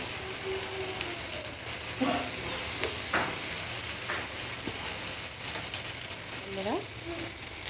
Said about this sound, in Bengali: একটু ভালো করে হালকা করে নাড়াচাড়া করে নিতে হবে মাংসটা